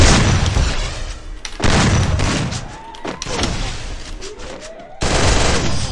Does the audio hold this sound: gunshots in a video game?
yes